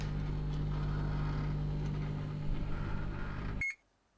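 A microwave oven in a video game hums steadily with a low, even drone, then cuts off sharply with a short beep and falls silent.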